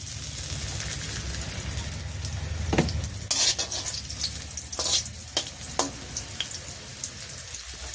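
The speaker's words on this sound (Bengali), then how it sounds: "আমি এখন দিয়ে দেবো কয়েকটা গোটা রসুন। দিয়ে দেবো তেজপাতা, আর একটু তেল দিয়ে দিচ্ছি" Whole garlic cloves and bay leaves sizzle in hot oil in a pan in a village kitchen, a steady frying hiss broken by a few clinks and scrapes of a utensil against the pan.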